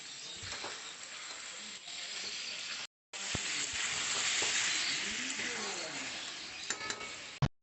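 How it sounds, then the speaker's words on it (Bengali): Soybean chunks fry and sizzle in a pan with an onion-garlic spice masala, a steady close crackle with occasional stirring scrapes, a brief pause midway, then sizzling continues until a final clatter. "ভালো করে সোয়াবিন দিয়ে মশলার সঙ্গে হচ্ছে কষে নেবো"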